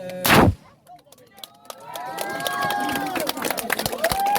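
A single loud gunshot cracks out at a confidence-firing exercise by the 91st Infantry Battalion, followed by the murmur and chatter of people nearby.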